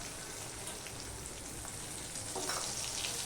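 Ground cumin, coriander and chili powder fry in a pan, giving a soft, steady sizzle like light rain, quiet and continuous, growing slightly louder near the end with no talking.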